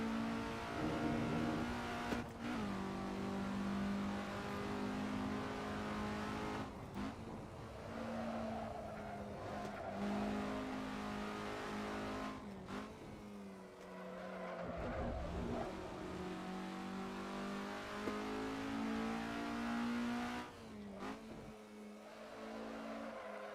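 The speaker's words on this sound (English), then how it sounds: "So we're stuck here, racing fake race cars." Race car engines rev and roar continuously in the Assetto Corsa racing game during a ranked online race with Ferrari cars, loud and steady with repeated upshifts and downshifts and no talk.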